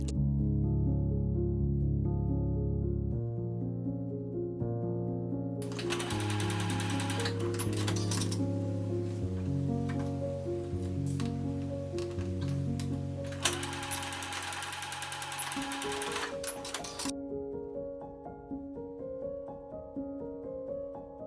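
Sewing machine basting the outer ties of a hanbok, a steady continuous motor whir and needle rhythm that runs close and loud the whole time with no talk, changing pace partway through.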